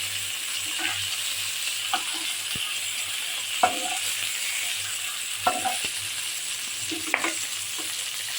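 Rohu fish frying in a pan, a constant bright sizzle of hot oil with occasional soft clinks and scrapes of a utensil turning the pieces, close and steady with no speech.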